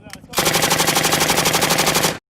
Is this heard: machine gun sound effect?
yes